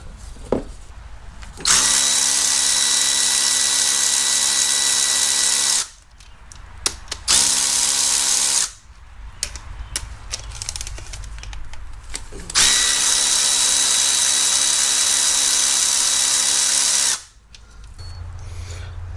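A power drill works during disassembly of a Mercedes M272 engine. Several long, loud whirring runs come close up, each lasting a few seconds, separated by short pauses and small clicks.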